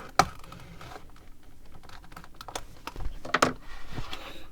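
A blade slices through cardboard packaging around a Hot Wheels Flying Customs Super Van: a few sharp scratchy cuts and clicks, close and moderately quiet, with no talking.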